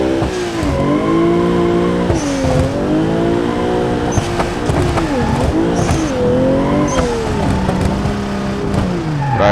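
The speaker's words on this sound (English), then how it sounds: "So this Chaser, this JZX100, is pretty good for drifting." A Toyota Chaser JZX100 drifting in the BeamNG driving game, its engine revving up and down through repeated slides while tires squeal, loud and continuous for several seconds.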